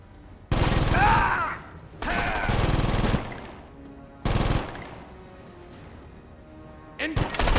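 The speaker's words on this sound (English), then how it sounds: "with all this gunfire" Gunfire in the 24: The Game video game, several loud sustained bursts of automatic fire separated by short pauses, close and harsh, with brief shouting voices mixed in.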